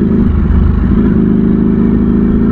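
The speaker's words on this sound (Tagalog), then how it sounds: "Ang motor na to, gustong gusto yung mga higher revs." Ducati Streetfighter V4S motorcycle engine held at high revs, a loud, steady, close-up roar with a dense low rumble and no talking.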